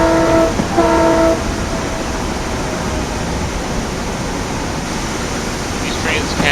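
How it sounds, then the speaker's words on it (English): AI-driven train running in Train Simulator 2015/16, a steady rolling rumble with a brief two-tone horn blast near the start and a faint squeal toward the end. "So this is the AI train that we're racing right now."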